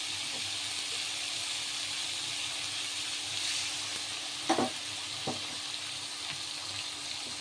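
Spice paste of chilli powder, turmeric, salt and mustard powder mixed with water sizzles in a hot pan for a thin pabda and tangra fish curry with vegetables, a steady close hiss with a couple of sharp spits midway.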